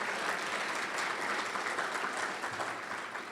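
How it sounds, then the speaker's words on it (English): An audience at an evening lecture series applauds warmly, a dense sustained wash of clapping that holds steady and then tapers slightly toward the end. "Big round of applause."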